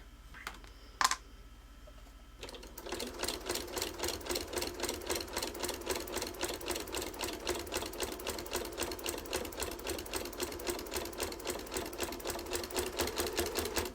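A sewing machine fitted with a walking foot stitches a small quilted project in a steady, rapid mechanical run after a brief pause and a couple of clicks, close and alone.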